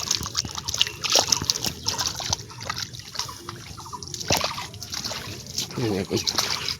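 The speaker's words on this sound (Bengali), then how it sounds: "জল রানিং বেরিয়ে যাচ্ছে এবার এই যে বেরিয়ে যাচ্ছে জল" Rainwater drains out of a flooded papaya field, making a steady close trickle and splashing flow while someone talks over it throughout.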